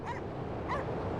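A dog in the video game Cryostasis barks softly and whimpers twice in quick yips over a dense, steady background noise.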